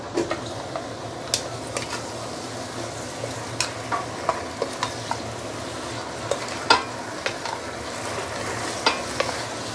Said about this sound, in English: So now I'm going to put in the pork leg.